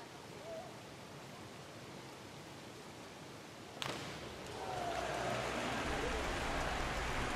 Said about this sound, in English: Lots of sound as they enter the water.